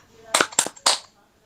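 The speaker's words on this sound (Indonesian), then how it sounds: "Marilah kita bersama-sama melakukan tepuk PPK." Tepuk PPK clap chant led by a pupil at an Indonesian school gathering: three sharp, loud group claps in quick succession, close and crisp, with a short silence after.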